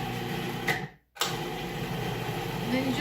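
A blender pulses pumpkin soup, its motor whirring up close, then cutting out for a brief moment before starting again, while a voice speaks over it.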